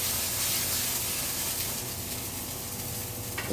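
Tuna searing in a hot pan, a loud, close, continuous sizzle and hiss of fat and steam, steady throughout the short stretch.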